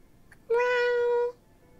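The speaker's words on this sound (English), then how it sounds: "Oh, cat." A cat in the video game Lies of P lets out one clear, drawn-out meow, loud and close, with no talk over it.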